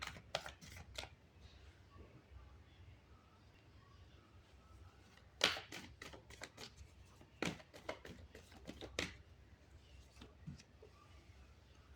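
A tarot card deck is shuffled and handled by hand: quiet, intermittent papery snaps and riffles come in short clusters, with calm gaps between them.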